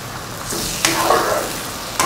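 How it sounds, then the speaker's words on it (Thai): Eggs being stirred and fried with fermented fish in a pan for a Lao dish, a steady close sizzle broken by a few sharp clinks of the utensil against the pan, with no talking. "แล้วเขาก็ให้คนจนกว่าไข่จะสุกแห้ง"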